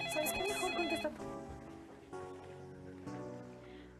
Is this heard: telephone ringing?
yes